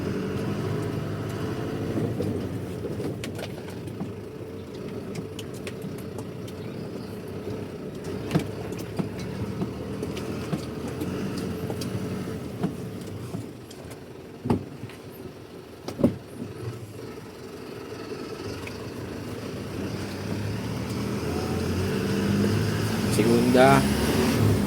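A Hino 300 truck engine pulling away in first gear on a road test, a continuous low rumble with scattered clunks and rattles, rising toward the end as revs build, with voices talking over it.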